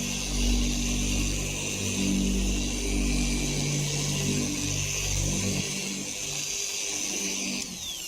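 A car paint polishing machine runs steadily at high speed with a sustained close whine and a droning hum that holds for several seconds with no talk.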